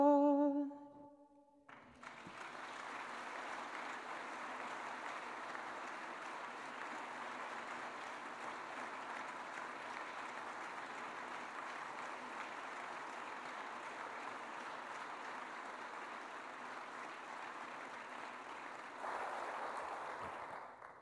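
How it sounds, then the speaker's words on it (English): Church congregation applauding during a Sunday service, a steady, dense wash of clapping that fills the room for about twenty seconds after a brief sung note, swelling slightly near the end. "We applaud because God is great"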